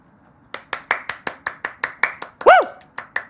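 Steady, evenly spaced handclaps from a single clapper in the cooking video game Cooking Companions, about a dozen crisp claps in a row, with a brief cheering voice breaking in near the end.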